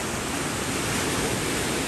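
Ocean waves washing onto a rocky shore where mussels grow, a dense, steady roar of surf filling the scene without pause, loud and close with no voices.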